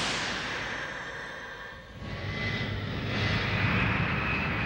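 A jet aircraft in an anime trailer roars steadily as it flies past, a loud broadband rush that dips briefly and then swells again.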